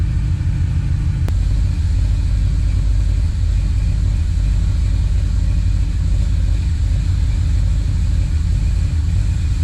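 Car engine fitted with Holley Sniper fuel injection holding a steady idle, a continuous loud low rumble with no pauses, heard alone and close.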